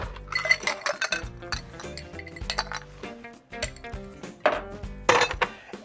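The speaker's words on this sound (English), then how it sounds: "We will start with ice cubes." Ice cubes clatter and clink into a cocktail glass to start a pomegranate cosmopolitan, with a series of bright, close clinks and rattles in bursts, no talking.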